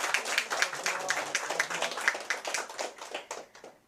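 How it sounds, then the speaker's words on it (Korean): Clapping from a small audience at a seminar event introducing research staff, quick separate claps with a lively uneven rhythm that thin out and fade toward the end. "큰 박수 부탁드립니다"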